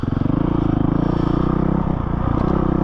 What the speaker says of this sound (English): just nice and smooth transition from no throttle to throttle